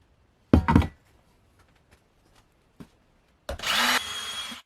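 A power drill fitted with a freshly sharpened bit bores through material in a prop shop, one short whirring burst near the start, a few faint taps, then a loud sustained grinding bore near the end, close up.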